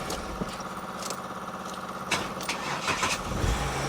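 An old luxury car's engine cranks and catches, settling into a rough idle with a few sharp bursts and revs, heard fairly close with no voices.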